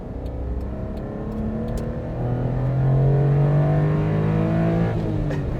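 A small Honda Beat's old pre-VTEC single-cam engine revs steadily, its whine climbing and holding high, close by with no talking.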